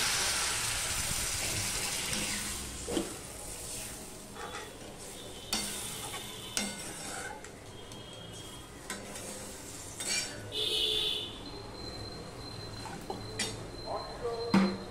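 Water poured into a sizzling masala of spices for a pabda fish curry, hissing and bubbling in the pan with stirring and scraping of a utensil against metal, steady and close throughout.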